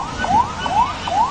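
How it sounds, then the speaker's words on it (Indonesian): An ambulance carrying a patient crosses a flooded river in Kupang Regency, East Nusa Tenggara, its siren sweeping up in repeated rising wails, loud and near over a constant rushing background. "Sebuah ambulans yang membawa pasien menerobos banjir sungai di Kabupaten Kupang, Nusa Tenggara Timur."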